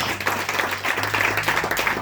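A church congregation claps in a dense, steady wave of applause, loud and close, with faint voices mixed in under the clapping.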